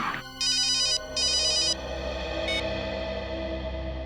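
A telephone rings with two loud electronic ring bursts over a background music bed, then a brief faint chime follows while the music continues.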